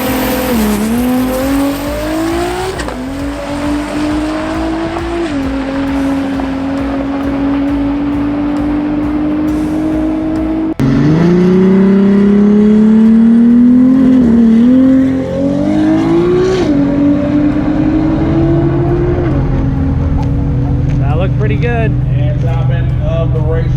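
A stock-block Toyota Supra drag car with a factory 2JZ engine launching on nitrous, a loud, sustained turbocharged roar rising through repeated gear shifts, then a second hard pull, heard close and continuous.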